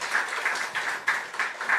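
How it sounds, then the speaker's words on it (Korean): Members of a church congregation clap briefly during Sunday worship to welcome visiting guests, a soft, even patter of hands with no voices over it. "우리는 안 보이지만 박수로 환영하도록 하겠습니다."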